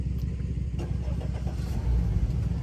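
A tritoon boat's outboard engine cranks and settles into a steady low idle on a Michigan lake, a continuous close-up mechanical rumble with a slight rise near the end and no talking.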